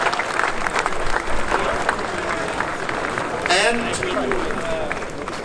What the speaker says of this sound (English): A big applause to Tom Donny and his wife, Patty, that supports him, of course.